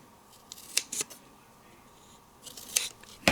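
Scissors cut card stock up close in a few crisp snips, a pair near the start and another pair later, with a sharp click at the end and quiet pauses between them.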